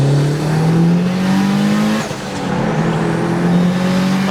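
A Mitsubishi Evo 8 MR with a 3-inch custom exhaust, resonator and muffler revs up steadily, then dips briefly and climbs again, loud and close, with no talking.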